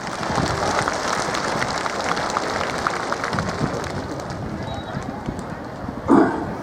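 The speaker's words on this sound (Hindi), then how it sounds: "एक बार जोरदार तालियों के साथ" Loud crowd applause welcoming the Chief Minister at a public rally in Khagaria, Bihar: a continuous dense patter of many hands, fairly distant and even, ending with a short louder burst.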